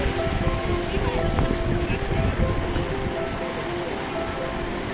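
Ocean waves wash steadily onto Puri Beach, a loud continuous rush of surf with wind buffeting the microphone and a hint of voices under the roar.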